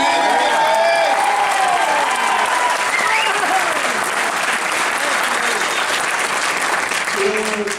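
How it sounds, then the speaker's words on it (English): Loud, dense applause from a large audience at a state senator's oath of office ceremony in a high school, sustained and even throughout, with cheering voices mixed into the clapping. "Let's give a big, big round of applause to Peter Harckham, the man."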